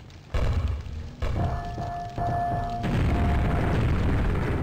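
Grenade explosion in the video game Quake, E1M3 the Necropolis: a loud booming blast at the start, followed by further heavy rumbling thuds and a sustained low roar over steady game ambience.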